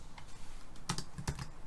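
Light clicks of typing on a computer keyboard, a few soft keystrokes followed by two sharper, louder key presses, close and with no talking.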